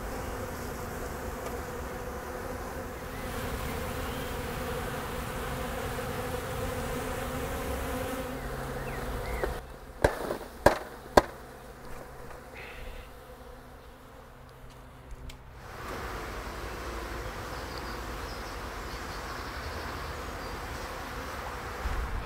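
A honeybee colony in a Segeberger hive hums steadily in July during an inspection for the queen, with a few sharp clicks and knocks from frames being handled partway through.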